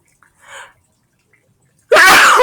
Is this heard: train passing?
no